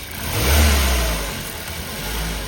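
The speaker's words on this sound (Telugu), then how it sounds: "ఒకసారి ఇంజన్ అనేది స్టార్ట్ చేయించి చూస్తాను" A 2020 Maruti Swift Dzire Tour petrol-CNG taxi engine starts, swelling into a low, loud rev that settles into a steady, smooth idle hum, with no talk.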